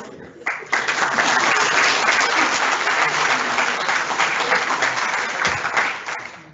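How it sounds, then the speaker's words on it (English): Audience at a university last lecture breaks into sustained applause, a loud, full wash of clapping swelling quickly and holding steady before tapering off, with some voices mixed in. "It's okay to clap too"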